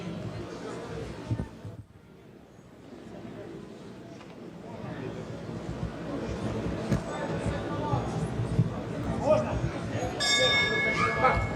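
A boxing ring bell rings at the start of a professional bout between Mirzakamol Nermatov and Evgeny Nikitin, a bright clang heard near the end over a steady arena crowd hubbub.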